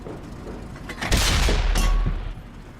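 A single heavy tank-gun blast in World of Tanks, a loud close boom with a rumbling tail and a second sharp crack shortly after, with no talk over it.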